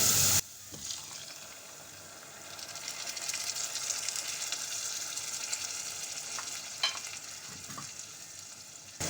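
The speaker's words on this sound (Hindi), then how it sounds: "लहसुन को हमने फ्राई कर लिया है, अब हम इसमें टमाटर पेस्ट शामिल करेंगे।" Tomato paste sizzles and spatters in a hot pan with fried garlic, a loud burst at first and then a steady frying hiss with a few stirring scrapes.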